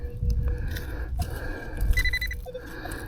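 A metal detector sounds steady electronic tones, with one higher beep near the middle, while sweeping over a silver dime found in a clump of soil outdoors.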